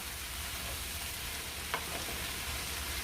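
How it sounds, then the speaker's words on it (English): Cabbage and sausage, cooked with potatoes, sizzle steadily in a frying pan, with a brief scrape of stirring partway through and no voices. "We're gonna try to get this all stirred around."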